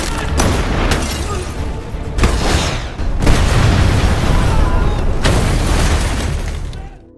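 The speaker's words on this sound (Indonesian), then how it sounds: "ada serangan RPG yang membuat satu mobil anak buah Donovan harus hancur" An RPG attack in an action film blows up a car with a series of heavy, deep booming explosions, repeated blasts rolling into sustained loud rumble before fading out at the end.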